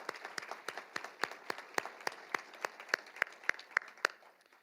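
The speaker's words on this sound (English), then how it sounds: "special round of applause for all of those who worked behind the scenes to make this evening possible" Audience applause at an optometry college white coat ceremony sounds as a thin, fairly faint run of steady claps from a modest crowd, quickening slightly toward the end.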